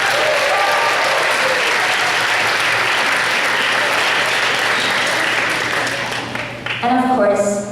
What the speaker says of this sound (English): Applaudissez fort pour les parents